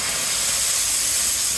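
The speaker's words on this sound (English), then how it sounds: "Oh, look, all the steamer works." A Sanremo Zoe coffee maker's steam wand blasts a loud, continuous airy hiss, close up and unbroken throughout.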